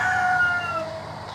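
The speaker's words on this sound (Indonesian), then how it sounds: "Ini jadi pejantannya." A rooster on a small chicken farm crows once, close and fairly loud, the call trailing off over about a second.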